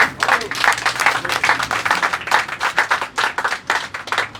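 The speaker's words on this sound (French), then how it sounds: "Et nous applaudissons." A crowd of striking workers bursts into sustained applause, dense clapping continuing steadily throughout, close and loud, with a few voices mixed in.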